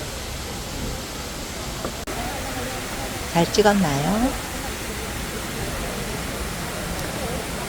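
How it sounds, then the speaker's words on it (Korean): Hongje waterfall pours in a steady, even rush of falling water that fills the whole stretch. A person briefly speaks over it in the middle. "시원한 폭포 물줄기를 바라보면서 폭포멍, 물멍이라고 하더라고요"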